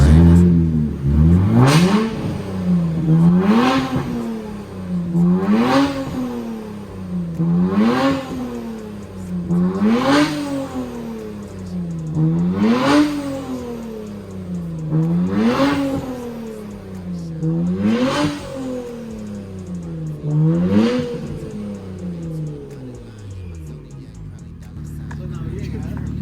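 A Nissan Z fitted with upgraded turbos revs hard in repeated climbing-and-dropping pulls, about ten in a steady rhythm, loud and close, with the engine note rising sharply each time before falling back.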